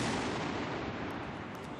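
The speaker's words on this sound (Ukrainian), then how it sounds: "Так традиційно пострілами з рушниць у Мюнхені відкривають і закривають славнозвісний Октоберфест." Ceremonial rifle salute at the close of Munich's Oktoberfest, a dense volley of shots rolling together into a loud, echoing blast that slowly fades, heard without talk.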